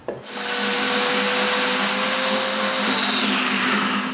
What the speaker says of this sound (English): Drill a hole in both pieces